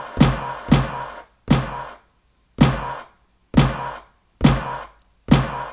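A trimmed missile-strike sample plays as a snare in Maschine, a run of seven sharp, punchy booming hits with short decaying tails and brief silent gaps between them, loud and close.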